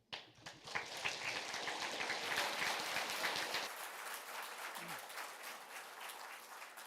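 Audience applause following a public speaker at a school board meeting, a dense burst of many hands clapping that rises quickly, holds, then thins into scattered claps before fading into room murmur.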